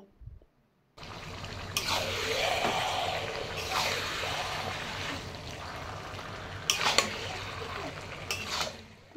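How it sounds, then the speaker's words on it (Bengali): A spatula stirs salt, turmeric, cumin, coriander and chili powder into kochu shak (taro leaves) in a pan, making continuous close scraping and sizzling with a few sharp metallic clinks against the pan. "ভালো করে নেড়েচেড়ে মশলাগুলো সব একসাথে মিশিয়ে নেব।"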